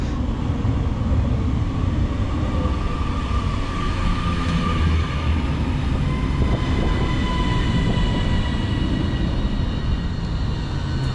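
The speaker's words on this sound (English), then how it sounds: "arriving in now is the 1424 Northern service to Crewe" A Northern Class 331 electric multiple unit, unit 331018 on a service to Crewe, pulls into a station and slows to a halt, its steady rumble and rising motor whine loud and close throughout.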